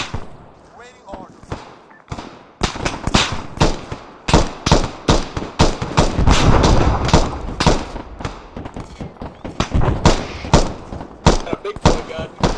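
A machine gun or grenade machine gun fires in the Overthrow video game, sending loud, closely spaced bursts of sharp shots that build and ease in waves, with some talk mixed in.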